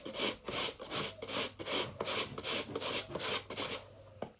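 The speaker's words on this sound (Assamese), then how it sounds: "এতিয়া এই জলফাইখিনি এনেকৈ কুটুৰি কুটুৰি কাটি দিছোঁ" Knife slicing Assamese jolfai nutmeg into small pieces, a close, rhythmic scraping rasp of about a dozen evenly spaced strokes, ending with a sharp tap, no talking.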